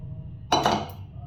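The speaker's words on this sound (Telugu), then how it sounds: "దోరగా వేగిన జీలకర్రను మనము ఈ స్టీల్ రోట్లో వేసుకునేసి" A single metallic clank and short clatter rings out as roasted cumin seeds go into a steel mortar, over quiet background hum, with no speech.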